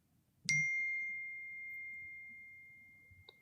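A single bright notification ding from a phone rings out once and fades slowly over a few seconds in a quiet room, followed by faint clicks.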